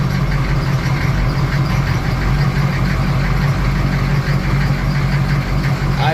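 A 6.5 diesel race truck engine idles steadily and smoothly, a loud continuous low rumble with a faint knocking rhythm, heard alone without talk.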